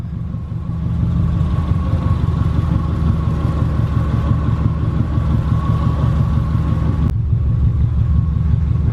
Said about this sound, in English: As soon as you try to put power to the ground, it wants to start popping and cracking and shit.